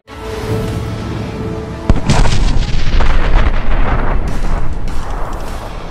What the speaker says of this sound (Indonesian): dibangunkan oleh suara ledakan yang berasal dari pegunungan